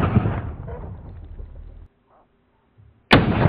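An experimental aluminum-barreled .45 Auto pistol fires jacketed ammunition. A report fades at the start, then comes a brief quiet gap. A sharp, loud, close gunshot cracks near the end.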